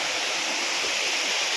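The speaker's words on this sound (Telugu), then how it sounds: "వాటర్ ఎలా పడుతుందో." Water pouring down Seethampeta Benarai waterfall in a tribal forest area, a steady, loud broadband roar of falling water that stays constant throughout with no voices.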